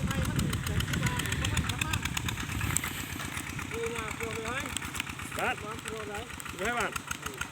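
A walk-behind tractor engine runs steadily in second gear with a chugging, knocking idle-like throb, close and continuous while people talk loudly over it.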